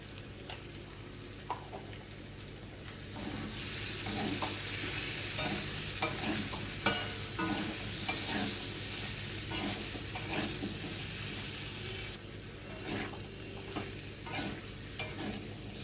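Yam pieces with spices fry in a pan with a soft, steady sizzle, while a spoon scrapes and stirs them at irregular intervals. The whole sound stays fairly quiet and close.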